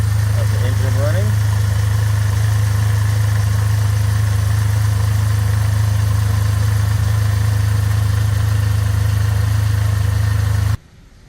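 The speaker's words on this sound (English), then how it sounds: "And here is a cold start of the engine running." A 2002 Ferrari 575M Maranello engine idles steadily from a cold start, a deep, constant low rumble held for about eleven seconds before it abruptly drops away.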